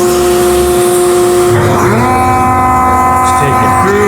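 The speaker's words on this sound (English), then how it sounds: "bring the surface planer up to meet with it" Surface planer flattening a walnut board, a loud sustained machine whine with steady tonal hum that shifts as the cutter engages the wood partway through, running alone without talk.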